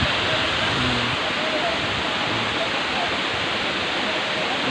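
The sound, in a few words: Tinago Falls waterfall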